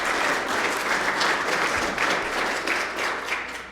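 An audience at an on-stage interview event applauds, a dense, loud, even wash of many hands clapping that continues throughout.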